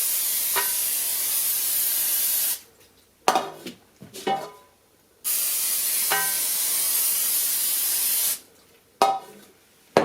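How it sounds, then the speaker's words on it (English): Aerosol cooking spray hisses onto baking pans for pizza dough in a home kitchen, two long steady bursts separated by clattering of pans and a few short sprays, close and loud with no talk. "I'm going to spray the pans."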